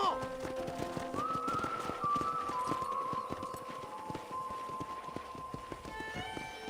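Horse hooves clip-clop in a steady walking rhythm in Red Dead Redemption, with soft whistling tones and faint background music layered over the repeated taps.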